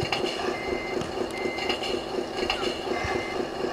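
A radio-controlled model truck sounds a steady, evenly spaced reversing beep that repeats for several seconds over a constant hum, heard close at moderate level.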